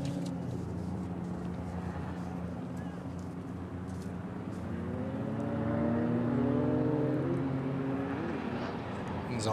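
At the Erzberg Rodeo 2012 hare scramble, an extreme enduro motorcycle engine climbing a rocky step is heard at a distance, its revs rising and wavering under a constant wash of background noise.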